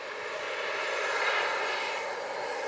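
A Southwest airliner takes off at Montego Bay, Jamaica, its jet engines producing a loud, steady, broadband roar that swells slightly and holds throughout.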